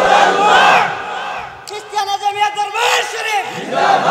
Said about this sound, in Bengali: স্লোগান দেন একটা।